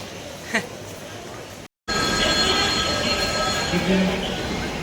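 A metro train rumbles along steadily with a high metallic whine and squeal from the wheels, a continuous loud ride after a brief cut in the sound.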